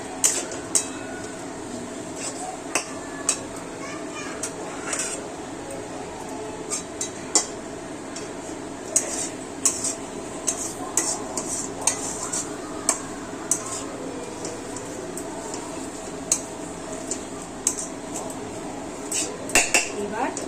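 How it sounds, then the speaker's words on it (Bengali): Spices stirred into onion and ginger-garlic paste in a pan over low heat for a chicken gravy, heard as repeated metal clinks and scrapes of a spoon against the pan throughout, with steady background noise and some voice. "এবার মশলাগুলোকে মিশিয়ে ফেলা, পেঁয়াজ আর আদা রসুনের সাথে মিশিয়ে দিলাম"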